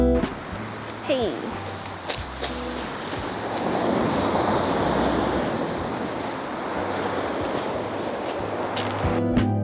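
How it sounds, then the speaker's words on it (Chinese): Sea waves roll in on a beach along a rocky coast, a broad rushing surge that swells and fades, mixed with wind buffeting and a few background voices. "白浪花，然后还有那个海浪的声音"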